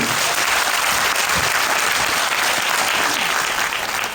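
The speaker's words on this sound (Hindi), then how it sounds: "एक बार जोरदार ताली हो जाए इनके लिए।" Loud, dense audience applause at a Forever Living Products business workshop in Delhi, honoring mentors seated in front; continuous clapping from a large crowd, sustained and close throughout.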